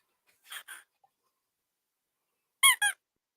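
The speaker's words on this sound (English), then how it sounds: "A chicken." A chicken squawks in two quick pairs of short, shrill cries separated by a stretch of silence, close and fairly clear.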